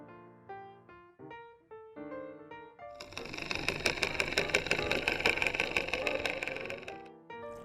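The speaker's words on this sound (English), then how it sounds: "Now we have the intermittent boat noise." Intermittent boat engine noise, played back for a fish behaviour experiment, follows a few short tonal notes with a rapid, pulsing mechanical chatter that runs for about four seconds before stopping.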